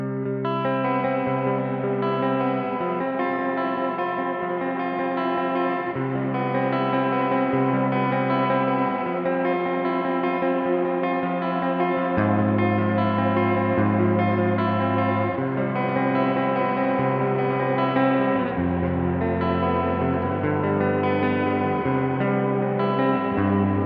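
Electric guitar played clean through a Neunaber Immerse reverb pedal and Iconoclast speaker emulator, sustained chords ringing with lush chorus-like shimmer and long reverb tails, steady and unaccompanied for over twenty seconds.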